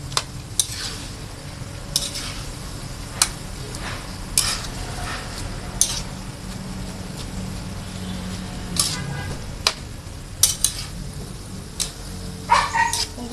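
A spatula scrapes and taps through fresh lumpia filling in a cooking pan, giving sharp irregular clinks over a faint background hiss, with occasional louder knocks near the end.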